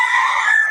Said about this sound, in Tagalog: Mga manok ni Boss Jun.